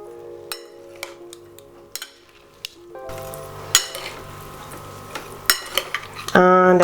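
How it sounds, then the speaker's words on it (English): Tomato salad with onion and black pepper being mixed in a bowl, a series of sharp clinks and taps from utensils against the dish over a faint musical hum, ending in louder scraping. "then just give it a good mix"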